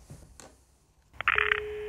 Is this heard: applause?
no